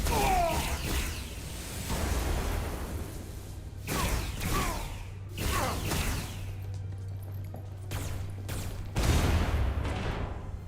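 Sci-fi energy weapon fire in Star Trek: Resurgence, a string of sharp swooshing shots in bursts over a steady low hum, the volleys repeating every second or two at close range with no talk.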